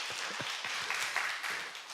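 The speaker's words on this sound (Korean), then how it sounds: "이거 박수 해줘야 되는 거 아니에요?" Congregation applauding in a church during a sermon, a dense patter of many hands clapping steadily for about two seconds at moderate, even level with no talk over it.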